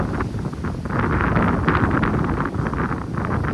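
Strong wind blows outdoors, a loud, steady broadband roar with gusty surges buffeting the microphone throughout, with no voices heard.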